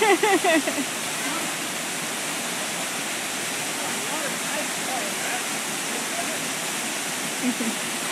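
A waterfall roars with a loud, steady rush of water. Brief voices and shouts are heard at the start and again near the end.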